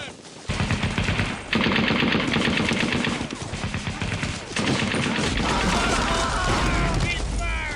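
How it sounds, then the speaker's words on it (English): Sustained machine gun fire and scattered gunshots from a Brothers in Arms World War II shooter, set in a battle against a Waffen SS counteroffensive at Hill 30, dense and loud throughout with shouted voices mixed in. "Get back on that machine gun!"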